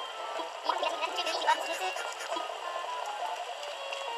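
Waterfalls in the video game Animal Crossing: New Horizons, a steady hiss of rushing water filling the scene at moderate, even volume, with no talking over it.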